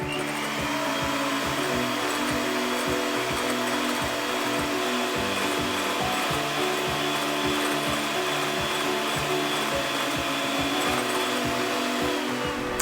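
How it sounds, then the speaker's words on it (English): An electric mixer whipping egg white in a bowl toward soft peaks, a steady close motor whir with a fast rattling, pulsing texture as the beaters knock the bowl, continuous and unbroken. "we're gonna whip the egg white until you get some soft peaks that form"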